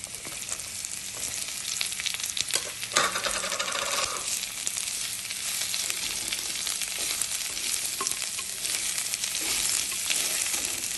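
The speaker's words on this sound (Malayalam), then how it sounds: "ചെറിയുള്ളി ഒന്ന് നല്ലപോലെ വഴണ്ടി വരണം" Sliced shallots sautéing in hot oil with garlic and ginger for Kerala prawn theeyal, a steady close sizzle with occasional stirring clinks against the pan.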